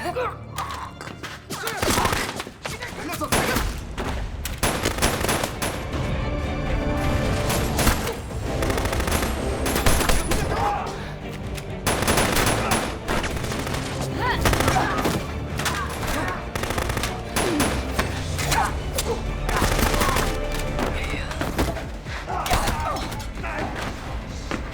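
Gunfire from mercenaries in an action film fight scene, with dense, loud bursts of automatic fire and heavy impacts that continue almost without a break.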